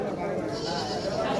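A large dairy goat of a good breed bleats close by in a livestock market setting, with a person talking over the call.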